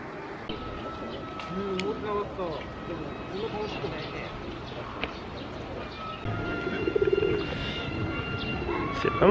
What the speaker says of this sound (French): ce qui m'éclate, c'est les pigeons, tu vois, ils sont vraiment pas sauvages